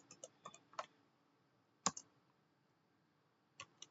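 Sparse, quiet typing on a computer keyboard at a Linux terminal: a few quick clicks, a sharper single keystroke, a pause, then two last taps, close and isolated.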